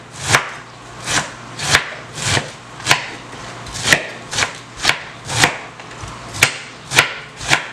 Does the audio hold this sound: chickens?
no